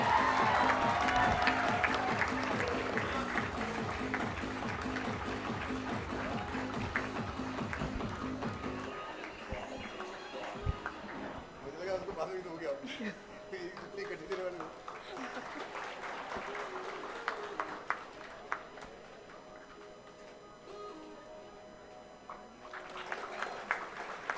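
A conference awards ceremony audience applauds the Best Digital Marketing Institute winner, with loud dense clapping that fades after about nine seconds into scattered claps, footsteps and background voices.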